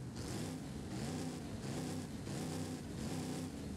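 Diesel truck-style engine swapped into a 2024 Mustang GT S650 in Forza Horizon 5, revving steadily with a low, rumbling drone that pulses in repeated swells, loud and continuous with no talking.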